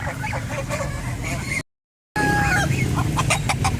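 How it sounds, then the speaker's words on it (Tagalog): Chickens in a bird collection, including African and serama birds, cluck and call repeatedly at close range, with a honking, crowing cry breaking through and a brief gap of silence midway. "Chicken."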